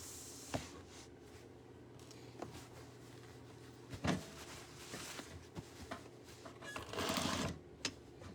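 Sewing machine stitching along the edge of a tote bag opening, with short bursts of mechanical whirring broken by pauses and small clicks, close and moderately loud, a longer steady run near the end.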